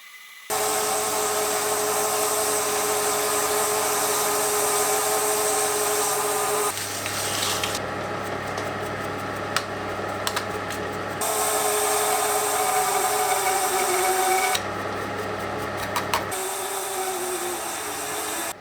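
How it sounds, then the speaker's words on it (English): A hole saw cuts slowly into material turning on a lathe, giving a sustained whining, grinding drone that stops twice for a moment and then resumes, with small clicks scattered through it. "come in with a hole saw and try to save that outside material. Doing this is very slow, but thankfully the lathe has enough torque to be able to do this."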